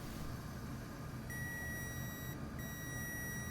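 A multimeter in diode mode beeps while probing a short on an Asus G14 laptop board, sounding a steady, clear electronic tone that starts, cuts out briefly, then resumes, with no talk.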